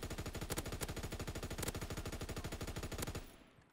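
Rapid automatic weapon fire from a Call of Duty: WW2 multiplayer match, a loud sustained burst of evenly spaced shots for about three seconds that abruptly cuts off as the magazine runs dry.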